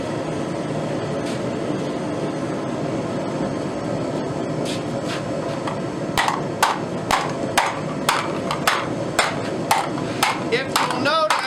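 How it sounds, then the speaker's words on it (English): A rawhide mallet strikes a heated saw blade being forged into a bowl, about a dozen sharp, evenly spaced blows arriving in the second half over a steady roar of forge or blower noise. "I'm using a rawhide mallet"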